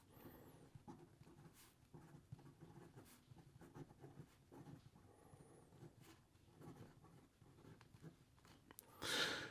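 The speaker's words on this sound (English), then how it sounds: "here we go with the rest of the writing sample" A fountain pen nib scratching across paper with slight feedback, a quiet close scraping texture of short strokes and pauses, ending in a brief louder rustle.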